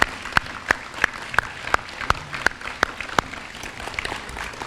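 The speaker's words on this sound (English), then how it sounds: "one more round of applause, please, for our young people" An awards ceremony audience for a teen pregnancy prevention program claps in a sparse, fairly slow rhythm, distinct individual claps rather than a dense roar, fading toward the end.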